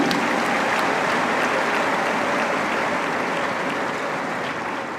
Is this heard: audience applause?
yes